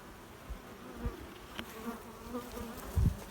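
Italian honeybees hum softly around an opened hive during an inspection, a faint steady buzz with a few light knocks and a louder thump near the end.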